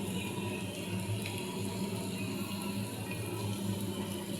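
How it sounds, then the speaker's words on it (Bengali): Water is poured steadily into a pot of pulao that has been fried with garlic paste, green chilies and salt, a continuous close rushing pour with no talking. "পানি দিয়ে দিলাম।"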